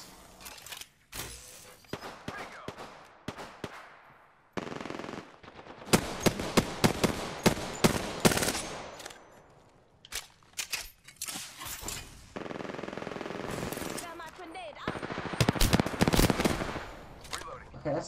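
Gunfire in the video game Apex Legends comes in rapid automatic bursts and single heavy shots, loud and close, with shorter pauses between volleys and a player talking over the action.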